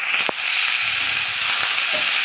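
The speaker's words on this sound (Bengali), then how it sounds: "হলুদ দিচ্ছে শাকের উপরে, সামান্য পরিমাণ লবণ দিয়ে দিয়েছে, নাড়িয়ে নিচ্ছে" Leafy greens stirred in a hot pan with turmeric and a little salt, a close steady sizzle with a few scraping stirs and light clatter, no talk over it.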